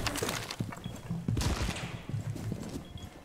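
Bursts of gunfire in Rainbow Six Siege, a rapid volley of sharp cracks from nearby followed by more scattered shots, with faint game ambience.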